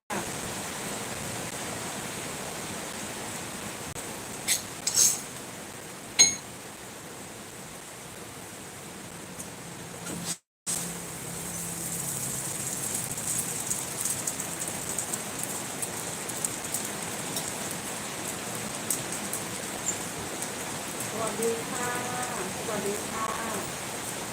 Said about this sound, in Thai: ฝนตกแรงมาก